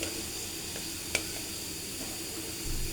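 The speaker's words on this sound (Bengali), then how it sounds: "এই যে আমি শাক দিয়ে দিয়েছি।" Greens added to dried fish curry with onions cooking in a pan, giving a faint steady sizzle and hiss with a single light click of a utensil.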